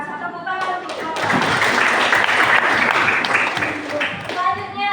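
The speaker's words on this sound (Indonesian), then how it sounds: "Tepuk tangan untuk mereka." A class of students claps together during an academic coaching session, a dense burst of hand clapping that swells for a few seconds, with a voice speaking just before and after it.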